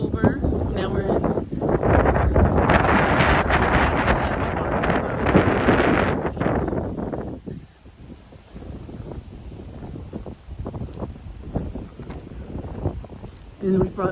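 Breezy October wind at a riverside waterfront park, a loud steady rush buffeting the microphone for the first seven seconds, then easing into softer gusts.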